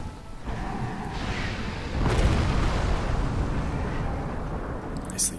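Explosive booms and rumbling blasts as a submarine is attacked and destroyed in the strategy video game Civilization V, a dense, continuous barrage that swells louder midway, with a brief pop near the end.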